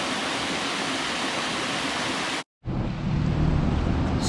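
Pigeon River rushing beneath a bridge on the Appalachian Trail, a steady broadband roar of flowing water close by, briefly cut off for a moment and then resuming at full strength, with no talking.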